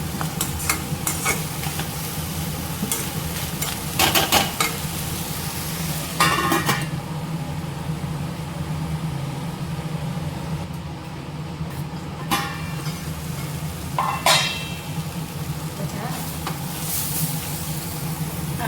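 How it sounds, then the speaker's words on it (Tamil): Tomatoes and onions with salt sautéing in a pan for banana stem chutney, a steady close sizzle with repeated scraping stirs and occasional utensil clatter, no talking. "இதை மூடி போட்டு ஒரு ரெண்டு நிமிஷம் நல்லா மூடி போட்டு மூடி போட்டு நல்லா வதக்கி எடுத்துக்கலாம்"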